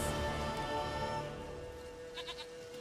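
A goat bleats in The Witcher 3: Wild Hunt, a brief moderate cry near the end of the clip over steady game ambience and background music.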